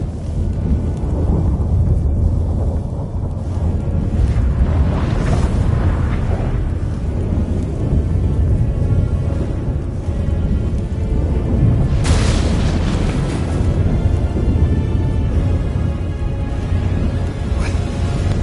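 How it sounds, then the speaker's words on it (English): A thunderstorm from The Witcher 3 video game rolls on loud and unbroken: a heavy rumbling wash of thunder and rain, with a sharp crack near the middle and no talk over it. "What the? That a storm?"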